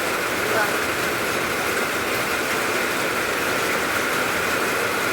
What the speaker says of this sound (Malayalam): മഴ ചാറുന്നുണ്ട് ഇവിടെ.